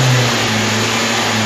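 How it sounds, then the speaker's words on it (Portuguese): A Hyundai Tucson Flex engine with a faulty lambda sensor runs at raised revs, a loud, steady, close hum with a constant tone and no voices. "Vou acelerar ali só para você ver o funcionamento, principalmente da sonda."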